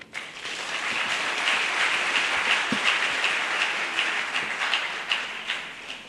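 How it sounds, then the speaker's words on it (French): Sustained applause from the audience at an official launch ceremony, dense and even clapping that swells after a brief start and holds steadily, fairly close and loud, with no voices over it. "Si nous pouvons applaudir"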